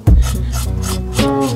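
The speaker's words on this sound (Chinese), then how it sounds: "用刀轻轻刮去表面焦的部分" A knife scrapes charred skin from pan-roasted green peppers in a few close, rasping strokes, opening with a sharp knock and ending with a longer drawn scrape.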